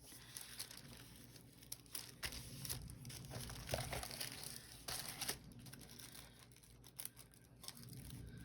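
Thin, tissue-like clothing pattern paper crinkles and rustles as it is handled and folded, a soft, continuous crackle with brief louder crumples.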